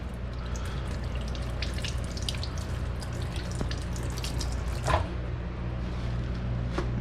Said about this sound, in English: I'm gonna wash this red pepper real quick